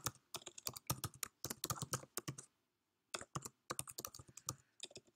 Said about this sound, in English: I'll start typing the code